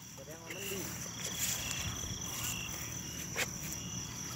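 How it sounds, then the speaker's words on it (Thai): Grasshoppers chirp steadily in grass at night behind a stage, a dense continuous insect drone with a few brief sharper clicks, heard at moderate distance throughout. "เสียงตะกะแตนดีดปิ้งๆเลยมีอยู่"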